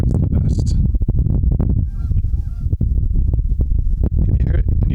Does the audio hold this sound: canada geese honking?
yes